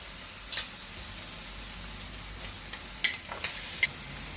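Squid sizzling on a hot metal sizzling plate, a steady low hiss of frying broken by a few sharp crackles and pops toward the end, fairly quiet and with no talking.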